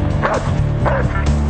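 A dog at a bite force competition featuring pitbull, rottweiler and shepherd breeds gives loud, close deep barks in a quick rhythm, three bursts over about a second and a half.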